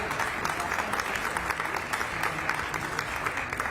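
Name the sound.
applause for airport leadership team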